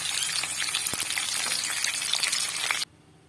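Chopped onions, dried chillies and cumin fry in hot oil for a dum aloo dish, giving a loud, close, crackling sizzle with a few sharp pops before it cuts off abruptly.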